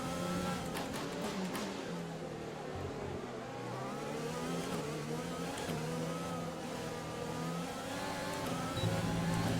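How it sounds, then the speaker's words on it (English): A Formula 1 car engine in the F1 2020 racing game, during the Australian Grand Prix, whines steadily with its pitch rising and falling as it revs and shifts, fairly quiet and continuous. "The engine sounds pretty good. Listen to it."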